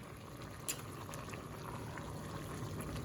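Cabbage cooking in a pot for southern fried cabbage, a steady close bubbling and simmering hiss with faint clicks, continuous throughout.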